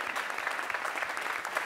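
Audience applauding as band members are introduced at a Costa Rican music show, a dense, steady wash of clapping that fills the short moment on its own.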